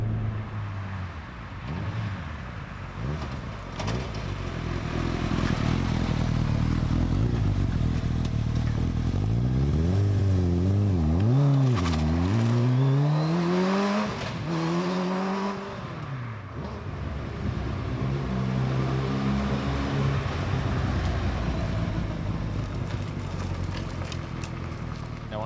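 A Megabusa, a small car powered by a motorbike engine, drives along on a wintry road, its engine revving up and down through rising and falling sweeps, loud and close, with no talk over it.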